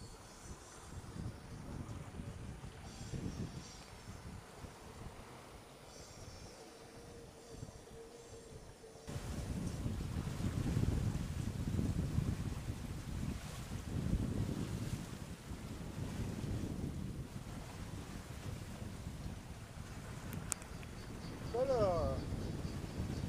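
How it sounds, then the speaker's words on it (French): Wind gusting over a sailboat at sea, a broad roaring rush that strengthens sharply partway through and stays heavy, with water wash underneath and a few brief sounds near the end. "Belle rafale ici"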